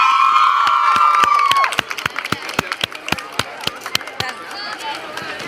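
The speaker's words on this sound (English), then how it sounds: "Give a big round of applause," Crowd at a college pharmacy and physiotherapy fitness campaign event, with a loud cheer and whistle at first, then scattered, rhythmic clapping that continues steadily.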